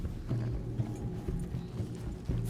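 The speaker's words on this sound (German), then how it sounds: "er will natürlich lieber mit dem Pferd reiten" A horse's hooves clip-clop at a steady riding pace in Red Dead Redemption 2, a regular rhythm of close, fairly loud hoofbeats with faint mechanical game sounds.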